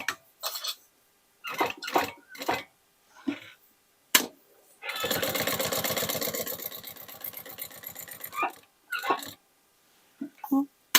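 A sewing machine stitches pieces of an old jeans bag in a steady rapid run of needle clatter lasting several seconds, close by, with a person talking before and after.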